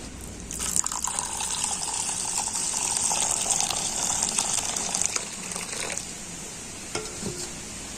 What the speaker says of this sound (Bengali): আর এখন আমি এই দুধটা তালের শাঁসের মধ্যে দিয়ে দেবো